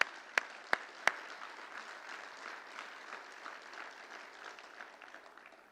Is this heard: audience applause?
yes